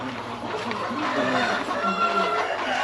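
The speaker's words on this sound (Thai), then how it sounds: "อ๋อนี่ลูกไก่หนุ่มโอ้เยอะกันนะ" Young chickens in a farm shed cluck and chirp in a continuous chorus, with rooster-like calls mixed in and a steady mechanical hum underneath; a voice speaks faintly in the background.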